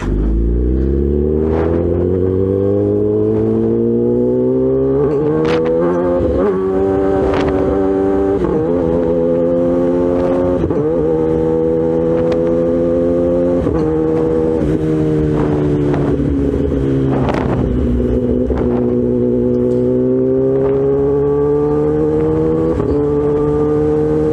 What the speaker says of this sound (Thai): ตอนนี้กำลังขี่รถกลับบ้าน